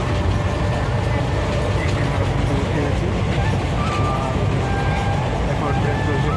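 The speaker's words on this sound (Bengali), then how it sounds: "এখন ট্রেন চলছে" A running passenger train gives a loud, continuous rumble and rattle heard from inside a carriage, steady throughout with faint screeching tones and voices in the background.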